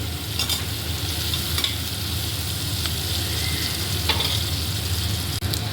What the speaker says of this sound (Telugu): మసాలా దినుసులు అన్నీ వేసి ఉల్లిపాయ, పచ్చిమిర్చి, కరివేపాకు వేసి బాగా వేయించాలండి